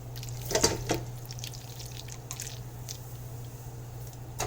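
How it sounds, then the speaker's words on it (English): Cooked boxed macaroni pasta drops into a bowl with a soft wet squish and a few drips, one main splat near the start, close and fairly quiet, with a low steady hum under it. "let's take a bowl here, drop our pasta in this"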